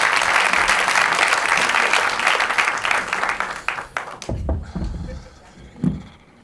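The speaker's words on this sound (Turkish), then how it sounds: "Büyük alkışlarla İstiklal Akarsu geliyor." A dense wave of applause from a comedy club audience greets a stand-up comedian taking the stage, loud and sustained before fading into scattered claps and stage noise.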